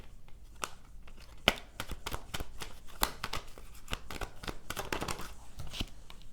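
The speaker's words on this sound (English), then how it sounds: "I shuffled some more, it still came out." Tarot cards being shuffled by hand, a quiet series of crisp, irregular riffling snaps and flicks repeating over several seconds, close up with no talk.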